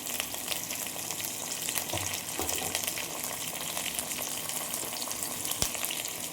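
Curry leaves and tomatoes sauté in a pan for a quail egg and mushroom gravy, sizzling loudly and steadily, with a few stirring scrapes and one sharp clink.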